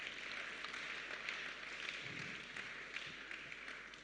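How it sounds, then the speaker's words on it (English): Faint, steady applause from an audience at a national business pitch competition, a continuous crackling wash of clapping lasting several seconds with no voices over it. "I think they deserve a hand of applause"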